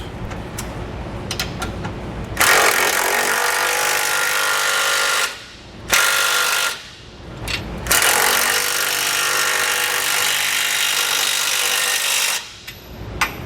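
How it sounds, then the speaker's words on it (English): A power tool tightens the bolts that replace the tow hooks while a base plate is installed on a vehicle front end. It runs in two long, loud, grinding bursts with a brief pause between them, and no talk. "And we're going to tighten down the 2 bolts that replaced our tow hooks first."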